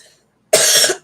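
A single harsh cough, loud and close, standing alone after brief quiet.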